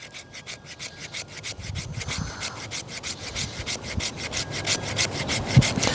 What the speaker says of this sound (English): we're going to see if it'll scrape some fat wood